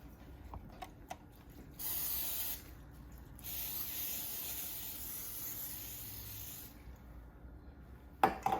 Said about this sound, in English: And next I'm gonna spray the rack.